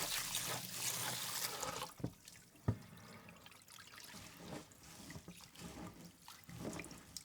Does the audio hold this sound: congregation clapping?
no